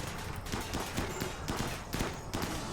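Gunfire in a RimWorld battle comes as a dense, steady volley of rapid shots, with the bursts overlapping throughout.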